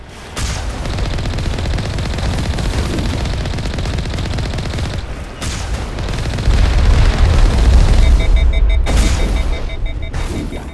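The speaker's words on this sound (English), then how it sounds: "I like the sound of that gun there on the Mako." Rapid bursts of heavy gunfire from the Mako vehicle's cannon in Mass Effect, loud and close, with a continuous rattling stream interrupted by brief pauses and a short sputtering tail.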